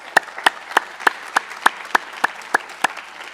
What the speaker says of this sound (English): So just one round of applause for the people that put all this together